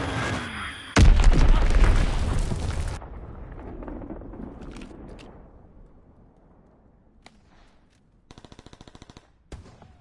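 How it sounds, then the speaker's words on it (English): A bomb blast in a military shooter video game hits as a loud, broad boom about a second in and rumbles for two seconds before fading, followed by scattered distant pops and a short burst of rapid gunfire near the end. "Enemy bomb incoming!"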